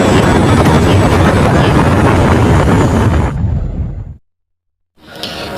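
Loud, steady roar of a helicopter in Call of Duty Modern Warfare Remastered, close and continuous with rushing wind-like noise, fading at about four seconds, then silence and a brief return.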